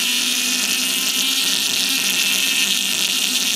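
A small Neo Vortex pulse motor powered by a 9-volt battery whirs with a steady, high, hissing drone, continuous and close throughout.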